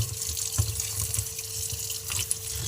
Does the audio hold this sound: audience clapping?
no